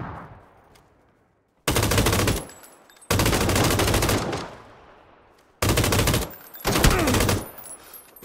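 Automatic rifle fire in PUBG, several long rapid bursts of loud close shots separated by pauses, with a single faint shot before the first burst and no voices over it.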